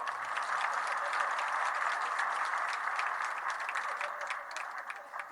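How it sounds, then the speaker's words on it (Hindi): A crowd claps steadily at a political celebration of an election win, an even roar of many hands over several seconds, fairly distant and fading a little at the close. "थोड़ी ताली जोरदार बजाओ"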